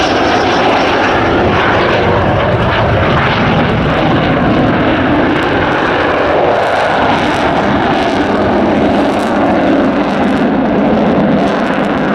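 The Avro Vulcan XH558 jet bomber roars through a flying display at RAF Waddington, a loud continuous engine rumble that swells and shifts over the whole stretch with no talk.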